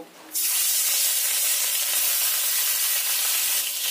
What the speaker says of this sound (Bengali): তেলটা আমার গরম হয়ে গেছে, এবার মাছগুলো ভেজে নেব।